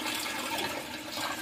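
Overnight-soaked tamarind, about 100 grams, is strained through a sieve, its water pouring in a steady close rush of liquid.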